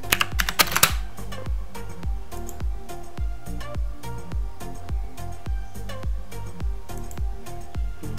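Keys clacking on a computer keyboard, a steady run of close, crisp strokes after a brief louder burst at the start, with no talking.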